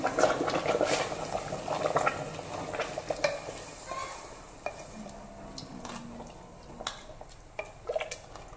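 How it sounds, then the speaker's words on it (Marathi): Rice being stirred with hot water in a cooking pot, soft bubbling and wet sloshing with scattered spoon scrapes and taps, louder at first and then quieter, no voices. "आता हे सगळं व्यवस्थित मिक्स करून घ्यायचं आहे."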